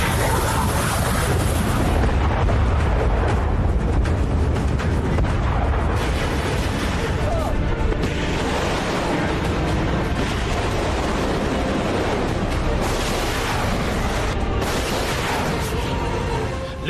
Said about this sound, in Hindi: बम धमाके गूंज रहे हैं।